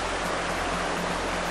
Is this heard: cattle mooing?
no